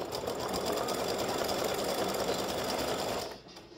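An embroidery machine sews a triple stitch with a dense, steady, rapid mechanical chatter close by, running continuously before cutting off near the end.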